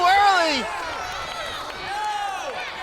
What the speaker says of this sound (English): The crowd chanting tap.